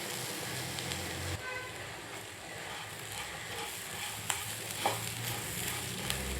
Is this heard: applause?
no